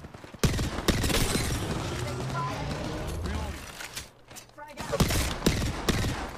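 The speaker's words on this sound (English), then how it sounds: "I'm getting shot." Gunfire in the video game Apex Legends rattles in rapid bursts, loud and close, mixed with mechanical clicks and game effects while a player talks over it.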